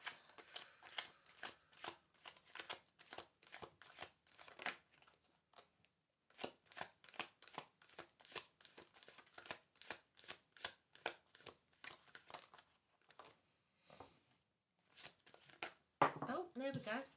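A deck of tarot cards is shuffled close up in quick, crisp riffles and slaps, pausing briefly before the rapid shuffling resumes.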